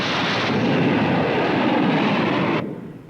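Fighter and bomber aircraft launch from the deck of an attack aircraft carrier, a loud, sustained jet roar that holds steady, then cuts off abruptly near the end and leaves a faint residual rumble.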